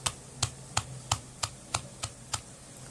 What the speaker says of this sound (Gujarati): અને ટેપ કરી લઈશું